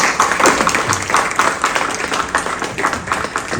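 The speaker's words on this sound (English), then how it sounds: "Let's have a round of applause for our author" Audience applause for the author Mahesh Manzar at a book event, a steady wash of many hands clapping together, moderately loud and continuous throughout with no talking over it.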